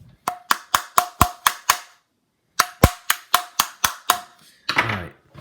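Sharp hand bangs on a Dell Dimension 4100 computer case, a fast run of seven loud knocks, a pause, then seven more, ending in a rattling scrape.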